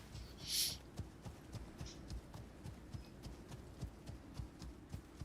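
Horse hooves in the survival video game Icarus clop in a quick, steady trotting rhythm, soft and even, with a brief brighter chime near the start.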